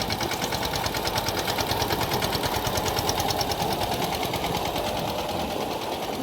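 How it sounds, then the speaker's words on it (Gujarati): A small mini tractor engine runs steadily while sowing a dry field, a close, continuous mechanical chatter with a fast rhythmic pulse and no pauses. "નાનું ટ્રેક્ટર છે મિની ટ્રેક્ટર"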